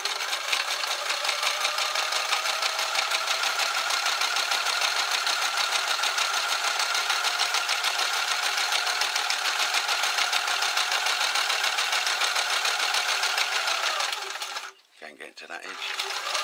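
A sewing machine stitches a fabric shelter pouch, a loud continuous rapid mechanical hum with fast needle rhythm running steadily for most of the time before briefly pausing and restarting.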